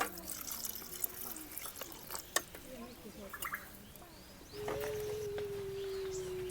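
Water is poured into a pan of brinjal curry being cooked for a Gujarati village-style dish, a steady pouring rush starting partway through and running to the end, after quieter cooking clatter and faint background noise.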